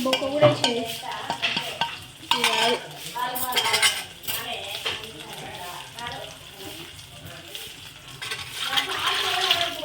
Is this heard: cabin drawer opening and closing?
no